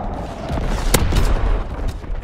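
Artillery fire in a military shooter game on a domination match, a dense rumble of booming blasts with one sharp crack near the middle, loud and sustained without speech.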